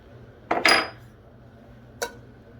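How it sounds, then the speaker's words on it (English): Anise seeds and cloves are tossed into a hot skillet with a couple of quick metallic clinks and rattles close by, followed a moment later by a single lighter tap against the pan. "we're going to use the same hot skillet to put in our anise seeds, our 5 cloves"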